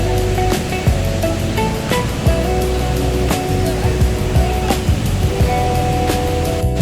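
Mallalli Falls in Kodagu, with water plunging from a height, heard as a loud, unbroken roaring rush that stays close and steady throughout.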